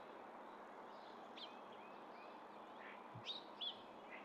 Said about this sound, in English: Ooh, a hermit thrush also.